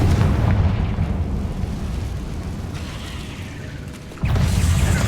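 A Confringo fire spell in Hogwarts Legacy bursts with a loud, rumbling explosion that slowly fades, then a second sharp blast erupts near the end, with no talking.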